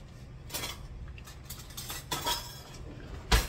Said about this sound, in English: Let me get another spoon